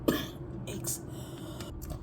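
A single short cough near the start, followed by a quiet stretch with faint room noise.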